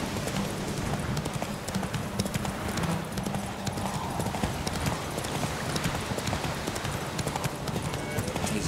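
Galloping horse hooves in a Witcher 3 race: fast, continuous clip-clop rhythm with an occasional snort or whinny, steady and close throughout, with a voice talking over it.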